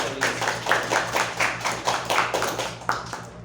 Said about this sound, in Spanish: Un aplauso para el Carlos Rodríguez.